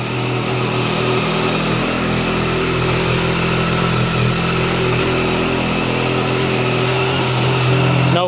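A Yamaha MT-09 SP motorcycle fitted with a Kelpi exhaust, DNA intake and tune idles steadily with a loud, close, even engine drone and a slight rise in revs near the end, no voices.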